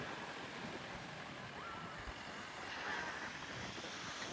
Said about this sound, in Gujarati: બાકી વાતાવરણ એકદમ જોરદાર અને મસ્ત મજાનો પવન આવે છે